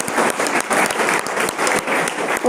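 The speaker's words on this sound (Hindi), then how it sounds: "जोरदार तालियां सर सभी के लिए।" An audience claps enthusiastically in a dense, steady burst of applause, loud and close throughout.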